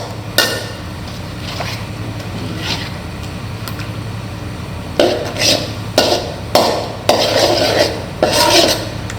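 Coconut milk and pork being stir-fried in a pan for Southern Thai khua moo, with repeated metal-on-pan scraping and clanks in a steady rhythm over a constant frying hiss, close and fairly loud, no voices.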